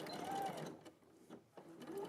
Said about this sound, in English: So I'm going to sew that facing on now.